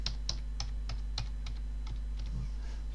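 Light, evenly spaced keystrokes on a computer keyboard enter a password, about a dozen close clicks over a low steady hum.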